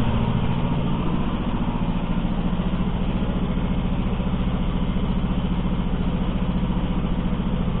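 A Lifan F-168 engine runs steadily, a close, loud, evenly pulsing mechanical chug that stays constant for several seconds with no speech over it.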